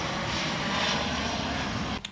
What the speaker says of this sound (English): There's a big plane going over by.